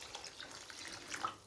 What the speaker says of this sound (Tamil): 1:2 4 கிளாஸ் தண்ணி சேர்த்துன்னு இருக்கேன்